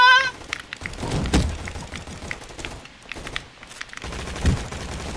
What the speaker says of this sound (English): The gunshots definitely sound like bad business